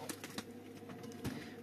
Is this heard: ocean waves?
no